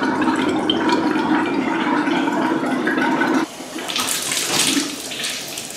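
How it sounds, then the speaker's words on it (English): Water gushes steadily from a tap while flushing a water heater of sediment, first with a low sputtering rumble, then shifting to a brighter, splashier full stream pouring into a tub. "There we go, we got some water coming out now."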